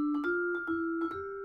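A vibraphone plays broken thirds, with bright ringing bars struck in quick pairs that take on a slight flam where the line changes direction. The notes are clear, close and moderately soft, and no one talks.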